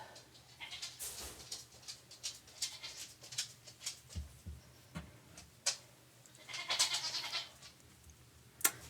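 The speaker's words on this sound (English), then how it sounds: "The goats are ready for dinner." Goats bleat intermittently around feeding time, several short calls rising over a quiet indoor background with faint ticking.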